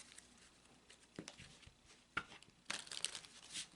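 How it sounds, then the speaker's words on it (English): Gypsy Witch oracle cards being shuffled on a table, quiet papery riffles and crinkles in a few short bursts with gaps between, soft and close. "we're going to take a few moments to shuffle the deck"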